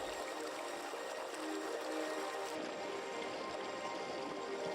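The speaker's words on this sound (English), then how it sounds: "The river transforms into a constant and peaceful sound." A river in Tangjiahe flowing past glacial boulders, a steady, even wash of moving water with no breaks, moderately loud and constant from start to finish.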